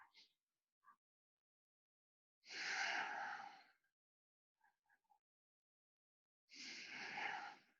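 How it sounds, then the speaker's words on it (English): Two long, deep breaths during a yoga breathing exercise, each a broad airy rush lasting over a second, separated by quiet gaps with a few tiny mouth clicks and soft sniffs, close and fairly quiet. "I'll stay for 2 more breaths."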